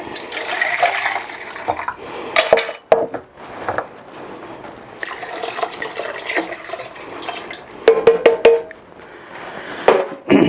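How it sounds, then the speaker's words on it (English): Beef broth is poured into an empty tomato can to rinse it out, making close splashing and sloshing pours with clinks of the metal can, in irregular bursts. "my beef broth, my beef stock. Use it to rinse out my tomato can."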